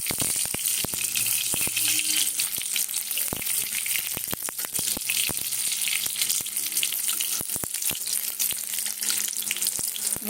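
Large chillies sizzle in hot oil for chilli fritters, a steady bright frying hiss broken by frequent sharp crackles and pops, close and continuous, with no voices.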